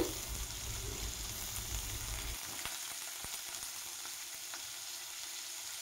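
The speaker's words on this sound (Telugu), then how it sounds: "మనం వేరొక కడాయి తీసుకొని అందులో కొంచెం ఆయిల్ వేసుకొని ఆనియన్స్, టమాటో ఫ్రై చేసుకోవాలి." Onions and tomatoes fry in a little oil in a kadai, a soft steady sizzle with a few faint stirring clicks, fairly quiet and without talking.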